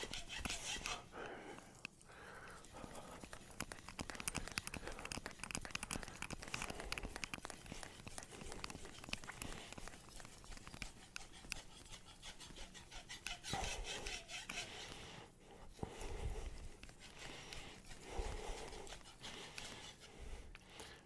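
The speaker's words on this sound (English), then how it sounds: "I am just doing a couple of edge leading strokes here." Kitchen knife worked across a Morihei Hishiboshi whetstone with short edge-leading strokes for a micro bevel, giving a steady close-up scraping and rasping grind that runs continuously with brief pauses.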